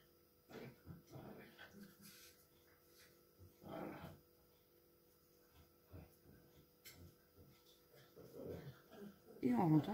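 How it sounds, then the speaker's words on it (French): Dogs whimper and give short barks here and there in a quiet indoor space, with someone talking over them, and a louder yelp near the end. "Et on entend les chiens."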